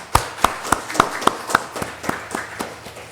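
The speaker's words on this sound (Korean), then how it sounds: "우리 서로 박수로 한번 뜨겁게 환영하도록 하겠습니다" A church congregation at Sunday worship claps in welcome, a series of sharp, evenly spaced claps that start strong and fade to softer, scattered ones.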